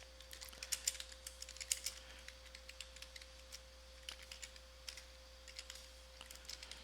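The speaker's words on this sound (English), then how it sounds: "So whatever you type in here" Typing on a computer keyboard, a quiet, irregular patter of key clicks close by with a steady faint hum underneath and no voices.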